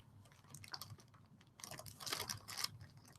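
Quiet, sporadic keyboard typing clicks at a college seminar, faint and irregular with a denser burst of keystrokes toward the end.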